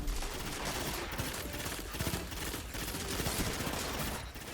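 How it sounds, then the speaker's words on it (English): Scatter grenade in Destiny 2 going off in a dense, crackling burst of many small rapid detonations, continuous and fairly faint, with no voice over it. "Throw a little scatter nade out here"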